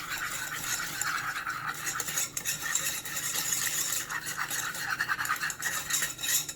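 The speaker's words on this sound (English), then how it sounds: "And then we're going to whisk it up." Light brown sugar and garlic powder being whisked in a bowl make a steady, busy scraping and clinking of the whisk, continuous and close for several seconds with no talk.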